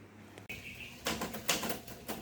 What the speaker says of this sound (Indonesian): Sayuti Melik pun mengetik naskah proklamasi